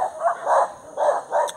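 A dog barks four times in a steady rhythm, fairly close, along an outdoor route during a barefoot road run.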